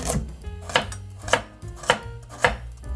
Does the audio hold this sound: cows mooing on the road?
no